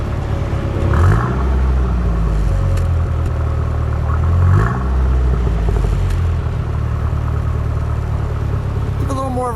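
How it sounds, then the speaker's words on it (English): The 1991 Dodge Daytona Shelby turbo engine idles with a low rumble and revs up twice in rising sweeps before settling back, loud and close, with voices talking around it. "I think I heard that turbo kick in"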